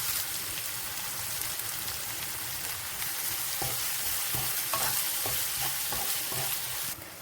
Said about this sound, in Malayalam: ഒനിയൻ നന്നായിട്ട് ഇളക്കി കൊടുക്കാം.